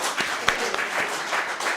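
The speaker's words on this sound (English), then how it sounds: "we just want to give them a round of applause, actually" Closing-ceremony audience applauding, a short burst of moderate clapping from a modest group with a few sharper individual claps standing out.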